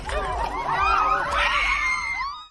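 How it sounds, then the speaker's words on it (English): Several women scream continuously as they are flung outward from a cliff-edge amusement ride over a canyon, loud, shrill and overlapping, rising and falling in wavering pitch with no talk. "Their screams could be heard as they were flung outward"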